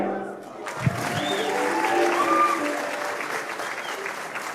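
Applause for a Public Service Commission choir at a leadership fellowship graduation ceremony: a large hall full of steady, even clapping that swells and holds for several seconds, with a faint murmur of voices.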